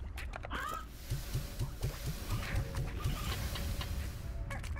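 Chickens in the game Slime Rancher cluck in a quick, regular series of short low clucks over a busy background of game noise and clatter.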